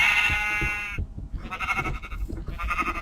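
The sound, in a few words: sheep bleating in a video game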